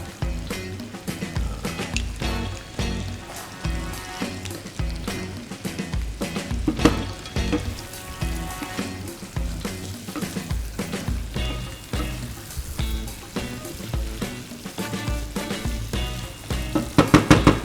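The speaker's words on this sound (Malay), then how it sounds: "Goreng sebentar," Continuous sizzling and crackling of seafood (fish, prawns, squid and crab) with rice frying in a hot pan, with busy clattering and stirring sounds throughout.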